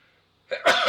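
A single sharp sneeze from a man bursts out of near silence, short and loud, close to the microphone.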